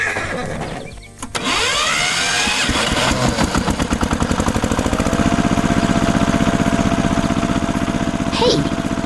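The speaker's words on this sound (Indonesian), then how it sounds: "Traktor merah sedang menarik trailer yang serupa." A chugging tractor engine pulls a trailer in a cartoon farm scene, a steady rhythmic motor beat running under an animal whinny and a horse-like neigh early on, fairly loud throughout.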